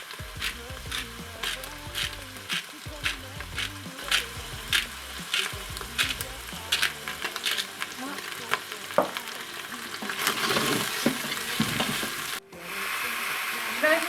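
Meat searing in a Moulinex Cookeo pressure cooker for pot-au-feu: a steady close sizzle with occasional scrapes and clinks of stirring, swelling into a louder hiss near the end.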